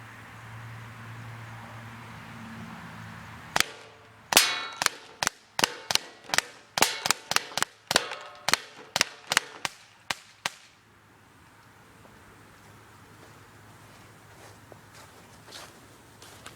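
H&K USP CO2 airsoft pistol fired at a target about 15 feet away, a rapid string of around fifteen sharp, crisp close shots with brief pauses, then quiet.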